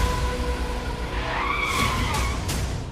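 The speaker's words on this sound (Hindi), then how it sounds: "आने वाली इस गाड़ी के साथ साथ ये मोटरसाइकिलें इसी तरह रवाना हो गईं।" A car on a Karachi street pulls away with tires skidding and squealing, a loud and steady rush of road noise over about three seconds, with motorcycles leaving alongside it.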